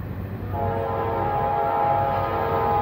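A northbound manifest freight train led by a Dash 9 locomotive sounds its horn in a loud, sustained chord over a deep rumble, close by and continuous to the end.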